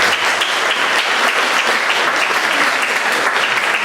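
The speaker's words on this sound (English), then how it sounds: "Let's give him a big round of applause." Audience applause in a hall at a school jazz concert, dense continuous clapping at steady loudness throughout, with no talk over it.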